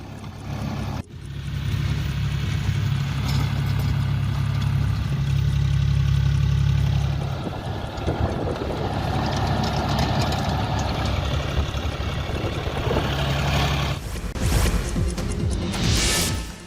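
A tractor engine runs at a steady, heavy rumble while it flattens a three-acre maize crop, loud and close, with rougher crunching and knocking bursts near the end.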